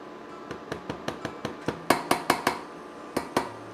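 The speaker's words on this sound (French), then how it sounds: "Alors, je remue de temps en temps." Marmalade cooking in a pot, stirred with a utensil that clinks against the metal sides in a steady series of sharp knocks, loudest in the middle stretch, then two final taps after a pause.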